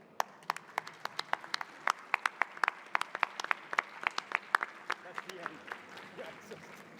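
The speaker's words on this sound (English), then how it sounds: "I want you to applaud all the partners." A forum audience at a travel industry closing session gives the partners a sparse round of applause, a few hands clapping in distinct, fairly quiet claps spread across the room, with some talk underneath.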